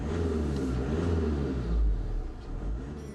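A VW Tiguan with a 2-liter diesel accelerates in a moderately loud, rising low rumble that swells briefly near the middle and then settles.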